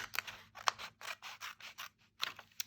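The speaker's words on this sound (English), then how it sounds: "So I'm gonna to cut this so we can open this paper bag up." Scissors snip through a paper bag during a papercraft project, a series of close, crisp cuts in an irregular rhythm with short pauses between them in an otherwise quiet room.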